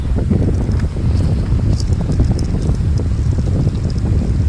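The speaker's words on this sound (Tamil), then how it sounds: "பா, செம்ம காற்று." Strong wind buffets the microphone at a hilltop temple stairway, a loud continuous rumbling roar with gusty bursts throughout and no talk.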